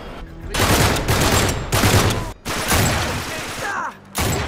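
Shotgun fire in the action game Uncharted 3, a run of loud booming blasts in quick bursts with brief pauses between them and mechanical clatter, close and dominant.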